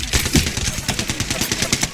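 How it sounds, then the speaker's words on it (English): A shotgun pistol in the shooter Apex Legends fires in a quick, rhythmic string of punchy shots, roughly a dozen blasts over two seconds, loud and close with no talk. "You got this stupid shotgun pistol looking thing that does only 15 damage."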